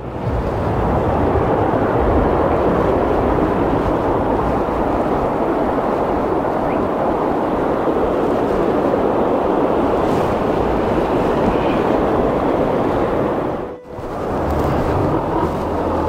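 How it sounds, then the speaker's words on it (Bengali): Small river in Pahalgam flowing under a bridge, a loud steady broadband rush of water that continues unbroken, with a brief dip near the end. "এই ব্রিজের নিচে যে ছোট্ট নদী বয়ে গেছে, নদীর নাম জানি না, কিন্তু পানির যে শব্দ"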